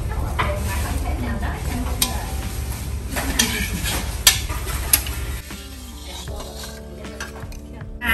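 Bánh xèo pancake frying in a pan in a Mekong Delta home kitchen, with a steady sizzle, scattered clinks of utensils on the pan, and stirring noises, quieting somewhat toward the end.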